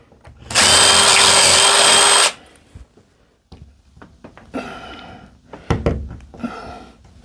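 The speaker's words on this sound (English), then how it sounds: "I can ream that out just a little more" A power drill reams out a wall hole for hanging pictures with wall anchors: one loud, close whir lasting under two seconds, followed by scattered knocks and handling clatter.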